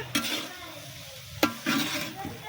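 Eggplant with salt and turmeric frying in a pan, a close, steady sizzle broken by a few sharp scrapes and clinks of the spatula as the pieces are stirred, with no talking.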